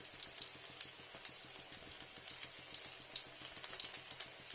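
Capsicum and vegetables fry quietly in a pan, a soft, continuous sizzle with faint crackles and occasional light stirring scrapes, heard alone without voices.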